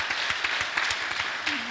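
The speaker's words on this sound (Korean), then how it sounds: "우리 서로 피차 격려하는 마음으로 박수로 하나님께" A church congregation at a Sunday service gives sustained applause to thank a returning mission team, a close, continuous wash of many clapping hands that holds steady for nearly two seconds.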